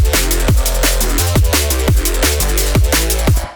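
A synthesized bass line plays together with a drum beat, steady low notes shifting pitch under sharp, regular kick and snare hits, loud and continuous with no voices.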